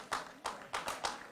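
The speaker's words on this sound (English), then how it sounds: "We could give that a round of applause." A few sharp claps in a quick irregular burst, brief and moderately quiet, like a small group starting to clap.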